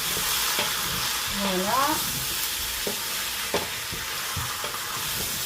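Meat and onions for chicken in white wine fry in a pan with a steady close sizzle and occasional stirring clicks, while a voice speaks briefly over it.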